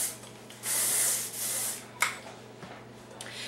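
Hair spray hisses from an aerosol can onto hair while styling voluminous beachy waves, with one sustained burst and a shorter second spray, followed by a faint tap.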